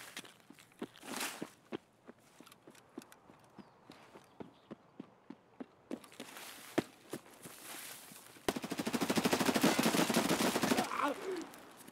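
An MP5 submachine gun fires in Escape From Tarkov on the Customs map: a run of sharp single shots and footsteps gives way to a dense, sustained automatic burst near the end.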